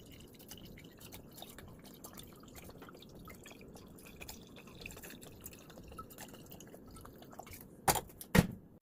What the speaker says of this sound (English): Go ahead and pour that into your bottle as well.